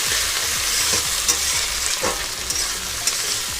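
Chopped tomatoes with onions frying in oil in a pan over a low-to-medium flame, a loud continuous sizzle with repeated scraping strokes of stirring close by.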